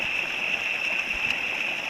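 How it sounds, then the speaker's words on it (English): A waterfall pours into a natural pond near a campsite, giving a steady, soft, continuous rush of water with no break and no voices. "found a glorious camp spot, just a couple of steps from a waterfall in a natural pond area"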